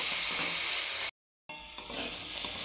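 Mung and masoor lentils frying in a pan make a bright, close sizzle that drops out for a moment in the middle and then resumes with a faint clink.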